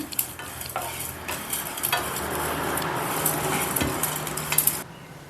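Chana dal, cumin and white sesame dry-roasting in a pan with no oil give a dry rustling sizzle under steady stirring, with scrapes and a few metallic clinks before a sudden quiet at the end.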